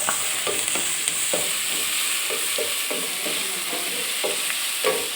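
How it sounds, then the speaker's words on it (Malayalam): Biryani masala seasoned with salt is stirred in a frying pan, a steady sizzle and hiss carrying regular scraping strokes of the spoon against the pan, close and alone. "ഇനി നല്ലോണം ഇങ്ങനെ ഇളക്കുക"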